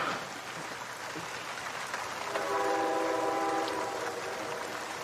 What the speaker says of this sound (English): there is something very melancholy about the sound of a train